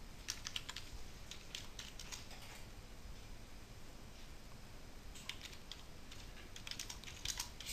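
Computer keyboard typing while entering confined space notes and an entry permit into safety software, quiet clicks in two bursts, near and fairly soft, with no talk.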